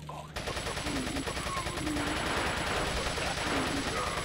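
Sustained automatic gunfire in Resident Evil 4, a dense rapid stream of shots that starts abruptly and keeps going loud and steady, with faint game sounds underneath.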